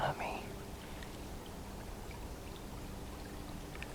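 A creek dropping over a small fall, heard as a steady, soft broadband wash of running water that stays even throughout, with a brief faint voice or rustle at the very start.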